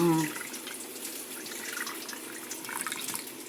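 Tamarind water is poured into horse gram rasam in a home kitchen, a steady, soft splashing pour of liquid that runs continuously for several seconds, close by, with no talking over it.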